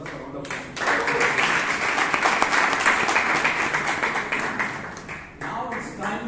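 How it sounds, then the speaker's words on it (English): An audience at a Toastmasters meeting breaks into sustained, even applause lasting several seconds, dense and fairly loud, with brief voices just before it starts and after it fades. "I think she deserves a round of applause."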